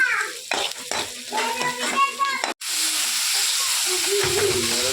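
Spices and cumin fry in a pan. A voice talks for the first half, then a sharp cut gives way to a steady, loud hissing sizzle that carries to the end.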